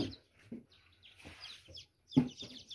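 Young chicks in a coop peep in short, high bursts, with a few lower clucks from the hen mixed in. The calls are close and come in scattered clusters with brief gaps between them.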